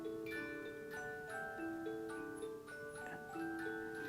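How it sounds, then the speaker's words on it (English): A cuckoo clock from Leinfelden-Echterdingen, Germany, chimes a bright melodic tune, its ringing tones overlapping, heard alone, softly and at a distance. "This is the first time that the cuckoo clock here in the city is going off during the Monday message."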